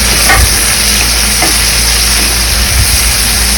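Five or six garlic cloves fry in oil in a pan for a roasted-gram chutney, producing a loud, close, steady sizzle with occasional soft stirring bumps.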